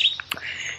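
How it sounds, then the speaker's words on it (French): Birds chirp outdoors in spring, a few short high tweets in quick succession against a faint steady background. "parce que je sais pas si vous entendez les oiseaux"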